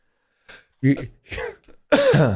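A few short coughs and throat-clearing bursts close to the microphone, separated by brief silences.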